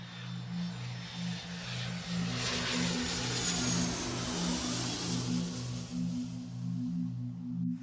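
A Boeing 707 jet airliner from 1957 roars steadily with a broad, loud engine rush that holds at close range for about eight seconds, with a low droning hum running underneath.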